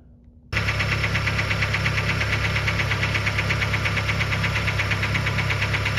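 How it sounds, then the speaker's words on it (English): A Kia Rondo engine cranks and catches after a muffler repair, then idles loudly and steadily with a rough, knocking throb through the exhaust, the sound running unbroken to the end. "We're gonna start up the car and see how it holds up."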